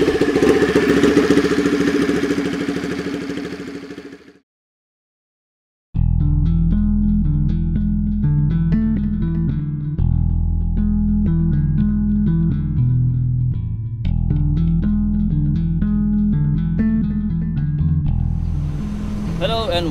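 A Ducati 1199 Panigale S motorcycle engine runs loud and close with steady harmonic tones, rising and falling with revs after a brief silent gap, with some voice or background noise at the start.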